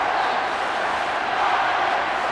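A stadium crowd of over 40,000 at an Ireland v Australia International Rules football match roars in a steady, dense wash of noise, loud and continuous throughout.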